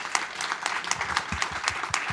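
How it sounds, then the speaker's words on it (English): Applause from a small panel discussion audience, fairly quiet with distinct individual claps audible in an uneven patter. "would you stand up and take a round of applause?"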